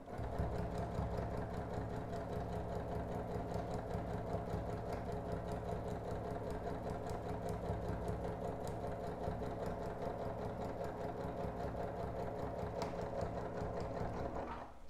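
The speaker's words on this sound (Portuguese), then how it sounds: "começa ali fora do tecido e vem costurando reto em cima da nossa linha" A sewing machine runs steadily, stitching a straight seam across quilt fabric, its fast even needle rhythm holding close and continuous for the whole stretch with no pauses.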